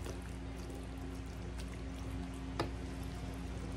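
Chicken and broth poured into a baking dish gives a soft, steady trickle and splash of liquid, faint and continuous, with one small clink near the end.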